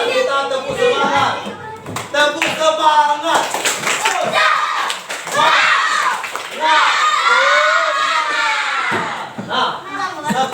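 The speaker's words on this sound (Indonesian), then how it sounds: "sekarang Bapak minta kita tepuk semangat" Schoolchildren in an Indonesian classroom do a rhythmic spirit clap, with bursts of patterned clapping mixed with shouting and chanting voices, loud and lively throughout.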